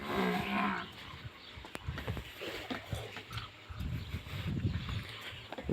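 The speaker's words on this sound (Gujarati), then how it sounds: "બાકી પશુ પણ હવે બોલવા માંડ્યા." Cattle on a Gujarati farm moo repeatedly at close range, several low drawn-out calls spread across the clip over a steady outdoor background.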